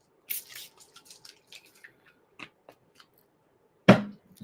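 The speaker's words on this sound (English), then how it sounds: "Got my sage spray." A bottle of sage spray is pumped, giving a short hissing mist burst near the start and a sharper, louder spritz near the end, with small clicks and taps between them in an otherwise quiet room.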